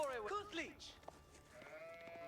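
Sheep bleating in Age of Empires IV, two or three wavering bleats in quick succession near the start, then a later tonal call, with someone speaking over them.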